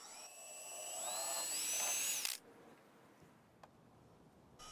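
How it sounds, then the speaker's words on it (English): A small drill with a 5/64 bit bores into a wooden chopstick, a thin high whine that rises over about two seconds and stops abruptly, followed by quiet with a few faint ticks. "I use 5/64 drill bit first."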